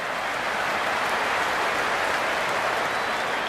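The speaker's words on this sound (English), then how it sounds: "It's evident and ever so audible that the crowd is at near bursting point at today's play." Dense, steady crowd roar at an IPL cricket match between Punjab Kings and Lucknow Super Giants, a continuous loud wash of cheering with no distinct breaks.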